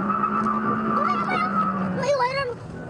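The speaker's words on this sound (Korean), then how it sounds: "앞차를 밀어낸 차량은 그대로 질주하기 시작합니다." An SUV surges forward after rear-ending a car at a traffic light, its engine roaring and tires squealing as it speeds off, heard beneath a news narrator's voice with a sharp wavering screech near the end.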